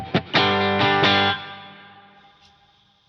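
A clean electric guitar through an HX Stomp with reverb plays a few chord strums, then rings out in a long, shimmering tail that fades slowly, with no voices.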